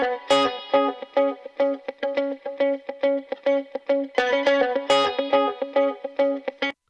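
Two electric guitars in a pop mix, processed with plugins and panned wide across the stereo field, play loud, rhythmic, chopped chords with a bright effected tone and no talking.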